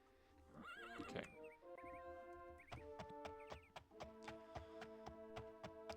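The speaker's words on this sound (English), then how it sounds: "I'm getting on the horse." In the video game Daggerfall, a horse whinnies loudly, then hooves clip-clop in a steady rhythm over a tonal, synthetic background.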